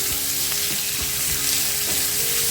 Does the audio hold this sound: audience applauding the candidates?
no